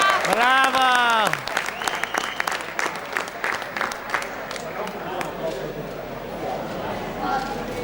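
Audience applause fills the air at an award ceremony for a cyclocross race in Vittorio Veneto, steady clapping from a crowd after a brief sung or voiced tone at the start, with a voice talking over parts of it.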